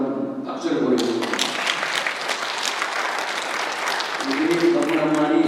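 An audience at an 11th North Korean Human Rights Day commemoration in Canada breaks into a burst of dense clapping that lasts a few seconds, with a speaker's voice heard just before and as it fades.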